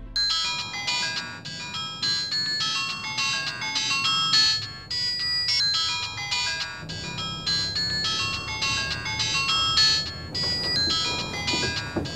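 A phone rings with a repeating electronic melodic ringtone, bright and fairly loud, looping steadily for about twelve seconds with no speech over it.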